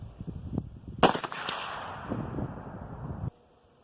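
A single sharp, loud crack from a 45-70 rifle shot at an outdoor range, with a ringing echo that fades over about two seconds before cutting off.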